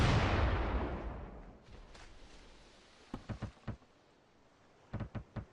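Cannon fire in the VR naval combat game Furious Seas: a big booming blast that rumbles away, then two quick salvos of three or four sharp thuds each, mid-distance and without talk.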